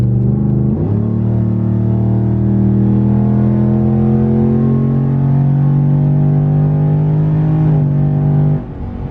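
A cammed Ram truck accelerates hard, its deep loud rumble rising in pitch through a long pull with a shift early on and another near the end, close and steady with no talking.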